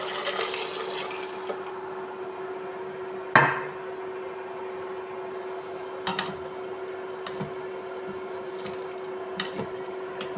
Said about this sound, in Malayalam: അതിന് നാല് ഗ്ലാസ് വെള്ളം ഒഴിച്ചു കൊടുക്കാം ചൂടുവെള്ളമാണ് ഒഴിക്കുന്നത് നാല് ഗ്ലാസ് ചൂടുവെള്ളം